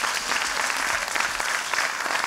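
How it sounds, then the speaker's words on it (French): Steady audience applause at a dance festival in Le Moule, a loud, continuous patter of many hands with a few voices faintly underneath. "je vous demande de vous applaudir"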